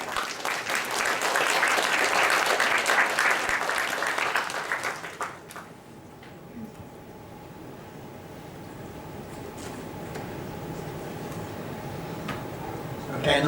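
Audience applause for poetry shortlistees at a youth writing awards ceremony, loud sustained clapping for about five seconds that then fades to quieter room noise and a few scattered claps.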